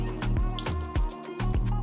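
Water being poured out of an old used candle jar with leftover wax inside, heard as close, wet dripping and splashing bursts in an uneven rhythm over about two seconds.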